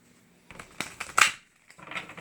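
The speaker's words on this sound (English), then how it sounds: "We'll shuffle and we'll get it going." A deck of cards being shuffled nearby: a few quick riffling bursts and soft papery flicks separated by short pauses.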